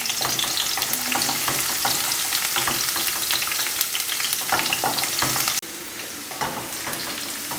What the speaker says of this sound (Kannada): ನಂತರ ಬೆಳ್ಳುಳ್ಳಿ ಹಾಕಿದ್ದೀನಿ